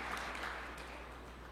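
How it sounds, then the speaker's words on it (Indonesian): A church congregation claps during a sermon, a steady wash of many hands that stays even and fairly faint across the short stretch with no voices over it. "Berikan tepuk tangan yang meriah."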